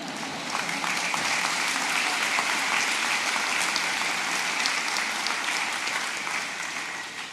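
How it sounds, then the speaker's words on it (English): A large commencement crowd for the class of 2025 applauds in a dense, steady roar of clapping that holds for several seconds and fades slightly at the end. "So I'm going to clap for myself."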